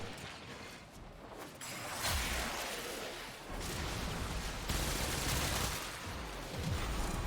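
Fireworks bursting nearby during a night with explosions all around, a dense crackling fusillade of loud booms and rattling pops that swells and continues almost without pause.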